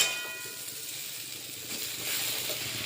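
Fried potato and jackfruit pieces sizzling as they go into a simmering vegetarian curry, a continuous broad hiss that swells slightly toward the end with no voices.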